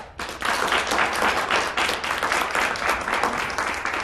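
A town hall audience breaks into dense, sustained applause for a no vote, loud and continuous from start to finish with no pause.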